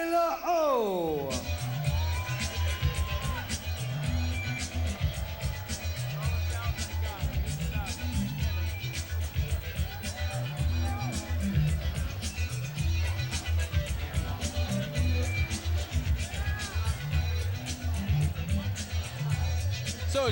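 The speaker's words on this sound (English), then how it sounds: "So as you can hear by the crowd chants here at King of the Cage Primetime" A packed arena crowd at a King of the Cage mixed martial arts fight roars and chants steadily, with music and an announcer's voice running on top of the dense, continuous noise.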